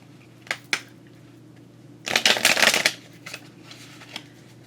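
A deck of playing cards is handled: a couple of quick taps, then one dense riffle shuffle lasting about a second, followed by softer settling clicks, close up with no talking.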